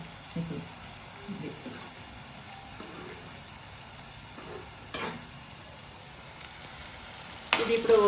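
Green chillies frying in hot oil in a pot for prawn pulao, a soft steady sizzle with a few brief clinks and stirs, louder crackling near the end.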